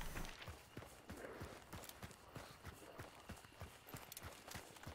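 A horse in the video game Hunt: Showdown clip-clops along, a quick, steady run of faint hoofbeats with a regular galloping rhythm and no other sounds over it.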